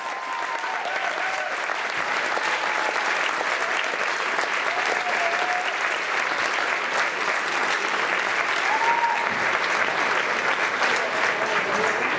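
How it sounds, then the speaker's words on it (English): A high school gym crowd at a varsity basketball senior night, Shanley against Sheyenne, gives outgoing seniors a sustained round of applause, loud and continuous for twelve seconds, with faint cheers rising through the clapping. "Let's give one more round of applause to your outgoing seniors."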